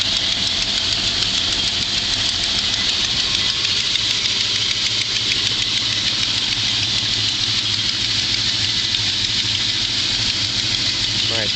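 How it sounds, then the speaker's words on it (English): A 1970 Plymouth GTX wagon's 440 V8 idles steadily with the hood open, a loud, constant mechanical clatter and hum heard up close without a break. "Now open up the hood so you can listen to the motor while it's running."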